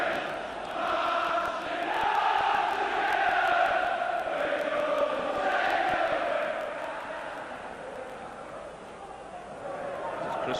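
Football crowd at a 1992/93 UEFA Champions League match between Leeds United and Rangers, a steady roar of thousands of supporters getting behind Leeds, swelling and easing across the stand while a commentator talks over it.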